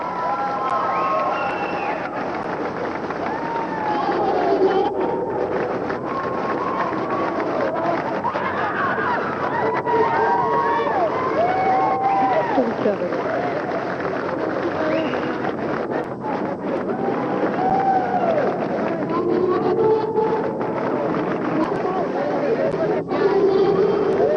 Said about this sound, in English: The crowd's so enthusiastic